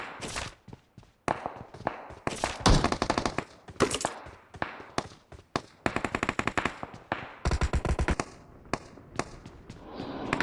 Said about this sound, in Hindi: फायरिंग तो हर जगह से आ रही है